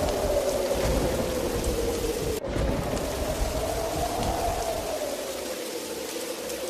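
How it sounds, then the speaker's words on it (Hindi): Heavy rain pours steadily with a deep rumble of thunder rolling underneath, a constant dense wash of storm noise with no voices. "आसमान में बिजली के साथ तेज तूफानी बारिश शुरू हो जाती है।"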